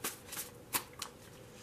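Soft riffling and flicking of tarot cards being shuffled, a few quick bursts close by, fairly quiet.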